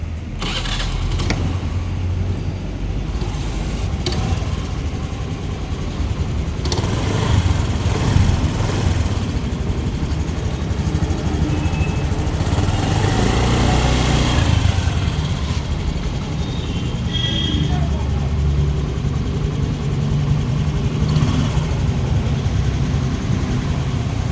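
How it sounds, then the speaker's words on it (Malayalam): A vehicle engine runs steadily at idle, a continuous low rumble with broadband hum that holds even throughout, no voices. "ഇനി ഞാൻ എഞ്ചിനൊന്നും ഓണാക്കിയായിരുന്നു സൗണ്ട് ഒന്ന് കേട്ട് നോക്കും"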